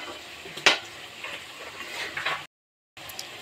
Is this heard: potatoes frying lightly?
yes